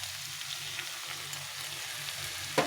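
Potatoes, peas, melon seeds and cashews frying in spices in a pan for aloo dum, a quiet steady sizzle and crackle that ends with a sharper clink near the end.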